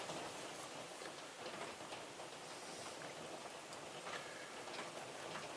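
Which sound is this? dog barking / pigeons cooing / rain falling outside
rain falling outside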